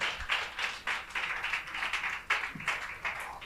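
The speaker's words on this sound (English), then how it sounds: "you should give yourselves a round of applause" A women's leadership audience gives a round of applause, heard as a light, fairly faint patter of clapping hands in uneven waves that fade and return.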